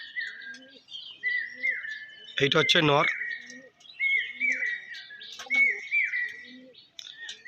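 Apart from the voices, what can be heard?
pigeons calling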